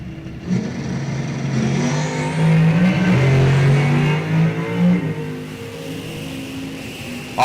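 Drag race cars launch side by side at a National Open event, a 1969 A-Stock Camaro and a supercharged 2018 COPO Camaro, engines roaring loud and close as they rev up and pull away, the sustained growl swelling midway before easing off.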